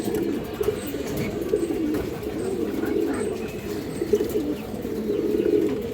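Pigeons coo steadily in a loft of fancy breeds kept for sale, a continuous layered murmur of many birds close by with no talking.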